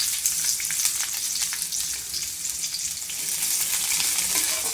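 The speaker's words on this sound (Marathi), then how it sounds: "तेल गरम झालं की त्याच्यात टाकू कांदा" Onion dropped into hot oil in a pan, giving a loud, continuous sizzle with dense crackling that holds steady throughout, with no talking.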